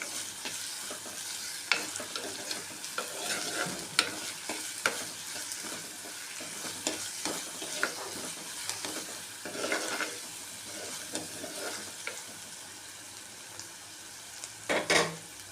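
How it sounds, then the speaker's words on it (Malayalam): Onions and tomatoes sauté in a pan for fish pollichathu, a steady close sizzle broken by frequent stirring scrapes and clicks, with a louder clatter near the end and no voices. "സവോള അല്പം ഒന്ന് വാടിയിട്ടുണ്ട് ഈ സമയം നമ്മൾ അരിഞ്ഞു വെച്ച തക്കാളിയും കൂടെ ഇട്ട് ഒരുമിച്ച് വഴറ്റുക"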